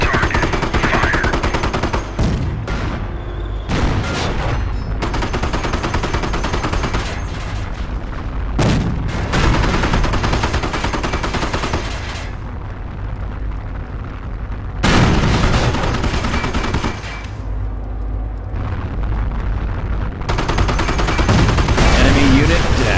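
Repeated bursts of gunfire and machine-gun rattle with booming blasts in the video game Company of Heroes, loud and near, coming in sharp clusters amid battle noise.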